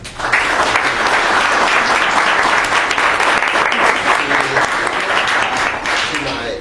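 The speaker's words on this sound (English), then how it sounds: "But first, please give a round of applause." Dense, steady applause from an audience thanking panelists at a Los Angeles small-business event, loud and continuous for the whole stretch and easing slightly at the end.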